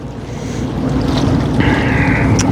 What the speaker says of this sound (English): a lot of noise on this bridge over here. This is a drawbridge